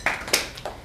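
A few scattered claps from an audience at a research colloquium, sharp isolated hits spaced apart, fairly faint and alone.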